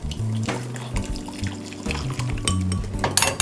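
Heated orange juice pours into beaten eggs in a bowl for an orange tart filling, a steady liquid stream with clinks and whisking against the bowl, close and fairly loud.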